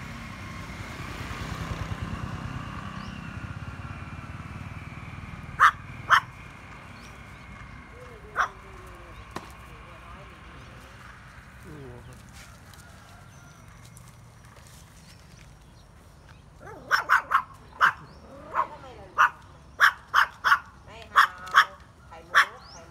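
Dogs near cows at the Thai-Cambodian border give sharp, sporadic barks, a few early and a rapid burst near the end, over a low outdoor rumble, with some quieter whimpering sounds between.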